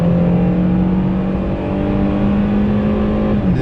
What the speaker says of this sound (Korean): 그 스포츠 사운드로 바꾸면 부릉 하는 소리가 좀 더 들어오는 걸로